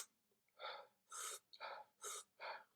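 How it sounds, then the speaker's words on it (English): Slow, audible human breaths in and out, five soft airy pulses of roughly even length in a steady rhythm, close and alone without talk. "You take a breath and you breathe out twice as long as you breathe in"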